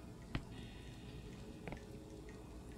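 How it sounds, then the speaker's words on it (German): Condensation drips from pipes in a dark Song of Horror interior, a few sharp, sparse drops falling at irregular intervals over a faint, quiet room hum. "In den Rohren bildet sich Kondensat, das herabtropft."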